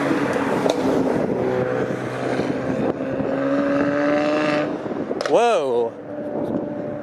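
Street traffic in Etobicoke, Toronto, with a loud car engine revving as the car passes close by, a sweeping roar that rises and falls near the end, heard over a steady rumble of road noise, with a brief exclamation from a nearby voice.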